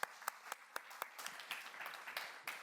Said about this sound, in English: Didn't expect the clap so early on.